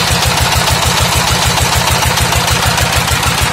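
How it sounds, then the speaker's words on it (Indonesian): An NR 20 PK diesel engine runs a farmer's 6-inch well pump, chugging at a fast, even, steady rhythm, loud and close throughout, with no voices. "Ini mesin dieselnya ini pakai merek NR ini, guys."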